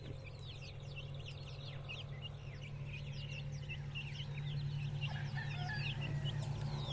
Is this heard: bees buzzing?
no